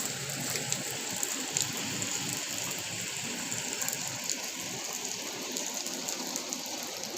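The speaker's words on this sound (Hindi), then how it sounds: "अजन तक ढेर सारी बारिश है," Heavy rain pours down in a dense, even wash, with water gushing and splattering steadily throughout and no talking.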